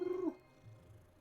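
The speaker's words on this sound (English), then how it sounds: "See the cat, you pet the cat" A cat in the Hogwarts Legacy video game gives one short meow, fairly clear and close, fading into quiet low background sound.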